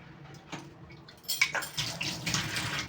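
Spoiled soaked rice (panta bhat) being washed in water, with splashing and running-water sounds that start soft and grow fuller and more continuous after the first second, close by with no talk.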